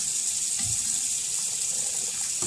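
Cold tap water pours steadily into a sink over cooked kale, chard and other greens in a colander, a constant hissing gush up close with no talking.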